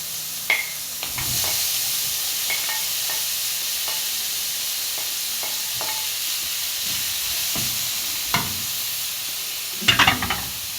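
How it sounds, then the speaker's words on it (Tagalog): Garlic and tomatoes fry in a pan under a steady sizzle, with a spoon scraping and clacking against the pan in scattered strokes and a louder flurry of stirring near the end, no talk. "Halu-haluin natin."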